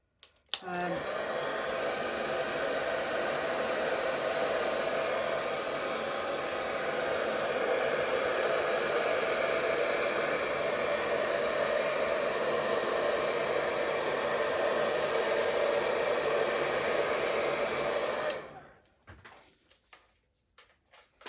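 Blower pushing acrylic paint across a canvas in a Dutch pour: a steady, loud rushing hiss of air running close for about eighteen seconds before fading out, followed by quiet handling noises.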